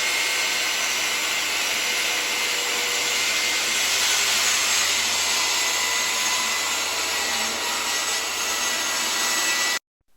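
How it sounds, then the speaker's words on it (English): A circular saw cuts steadily through hardwood plywood with a loud, continuous whine and rasp for about ten seconds, then stops abruptly. The sound is close, and nobody speaks. "ensuring that our saw blade spins freely before it engages the hardwood plywood"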